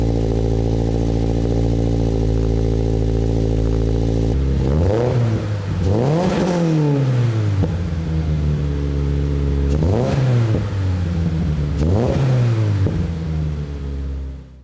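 A 2023 Toyota GR86 sports car's exhaust idles with a steady low drone, then blips through three or four sharp revs that rise and fall back to idle, loud and close with no talking.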